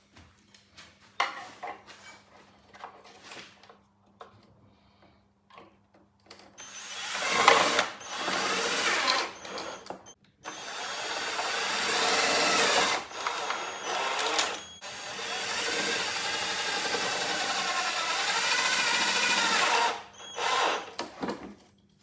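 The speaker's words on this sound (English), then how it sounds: "I'm going to have to cut off some more metal." Power tool cutting metal to make angled brace bars for a replica BTCC rear wing on a Laguna track car, a harsh grinding whine in long loud bursts separated by short pauses.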